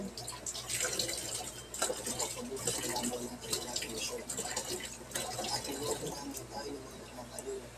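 Water runs steadily from a faucet into a sink while someone washes their face, a constant splashing hiss with irregular drips and splatters, close and continuous throughout.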